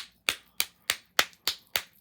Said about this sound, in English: So clap it up, baby